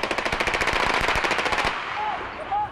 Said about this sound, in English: He eventually exchanged gunfire with police and was shot dead.